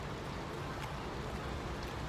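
Steady, dense rain falls on a street in Busan, South Korea, a constant hiss with no pauses, moderately loud and close, and no voices over it.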